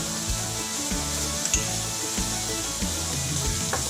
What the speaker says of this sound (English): while that steak is cooking